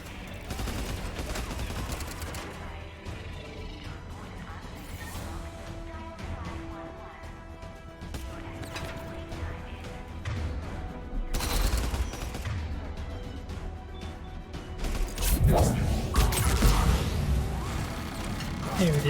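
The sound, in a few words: turret gunfire in the video game Mass Effect 3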